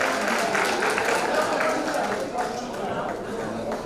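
An audience at a life celebration event applauds the choir, a dense, continuous wash of clapping mixed with crowd chatter and voices, steady and fairly loud throughout.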